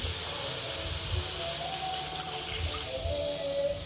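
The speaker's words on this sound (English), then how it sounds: "so we're just gonna add water to it" Water pours steadily into a pan of browned meat being cooked for pancit canton, a continuous close splashing rush with no talking.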